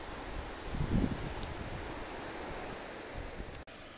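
Steady wind buffets the microphone outdoors with a broad rushing noise, slightly louder early on, no voices.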